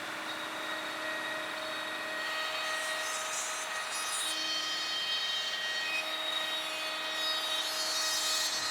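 A handheld router cuts rabbets along a straight edge in cabinet tower sideboards, making a steady, continuous high-pitched whine with a grinding, rasping bite into the wood that holds at an even level throughout.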